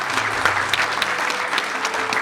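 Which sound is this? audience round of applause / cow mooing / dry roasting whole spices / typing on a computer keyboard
audience round of applause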